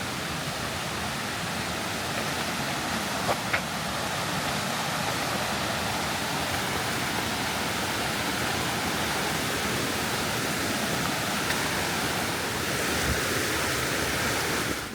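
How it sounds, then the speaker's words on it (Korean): A mountain valley stream near a hiking trail outside Seoul in late summer rushes in a steady, broad wash of flowing water, continuous and fairly loud with no voices. "물소리를 들으며 걸으니 덥다는 생각보다는 시원하다는 생각이 먼저 듭니다"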